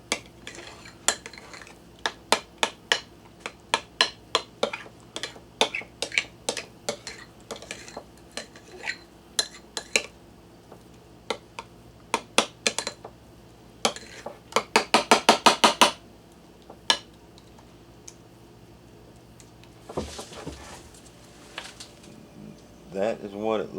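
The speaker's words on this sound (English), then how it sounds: "Let's give that one more stir." Spoon clinking and scraping against a bowl while stirring reconstituted freeze-dried yogurt, a long run of quick close metallic taps with a dense rapid burst near the end.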